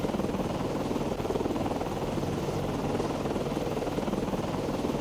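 Steady, continuous helicopter rotor and engine drone from the naval video game Cold Waters, heard alone without talk as a constant, fairly even thrum.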